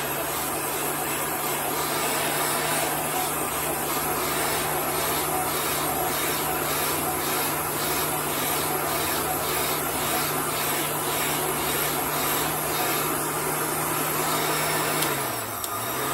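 A heat gun blows a steady, loud stream of rushing air with a constant motor whine, running continuously and close, dropping in pitch as it winds down at the end.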